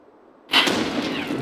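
A grenade goes off in VR Citizen: one sudden sharp blast after a brief hush, followed by a sustained rumbling tail that stays loud to the end.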